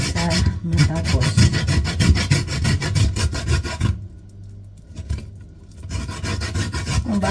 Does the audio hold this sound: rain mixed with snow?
no